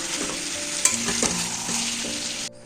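Chicken curry being sautéed in a pan, a dense, loud, close sizzle with a couple of sharp spatula clicks, cutting off abruptly at the end.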